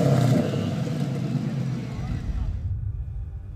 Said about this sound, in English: it was pretty obvious that this is a gnarly Mustang sound